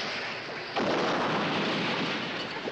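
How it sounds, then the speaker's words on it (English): Submarine torpedo tube being blown out with air, a sudden loud whooshing roar of rushing air that kicks in after a brief low rumble and holds steady to the end. "Blow out torpedo tube 1."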